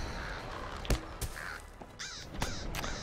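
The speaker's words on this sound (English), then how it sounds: "Oh, I hate crows." Crows in the video game LOTRO caw several times in ragged, overlapping calls among sharp clicks and combat thuds, the harsh caws fairly close and clustered toward the end.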